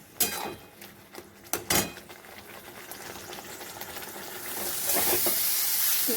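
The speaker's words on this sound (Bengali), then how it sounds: "এবার এটা ভালো করে নেড়ে নিতে হবে, একদম শুকনো করে নেড়ে নিতে হবে।" Patol bata being stirred in a frying pan, with sharp scraping clacks of the spatula against the pan early on, then a sizzling hiss that builds toward the end, close and with no voices.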